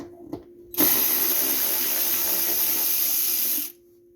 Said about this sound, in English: We're gonna go ahead and take that bolt out.